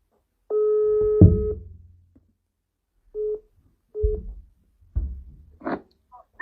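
A telephone call being placed: a steady tone followed by short tone bursts and dial-tone beeps, fairly close and clear, with no talking over it.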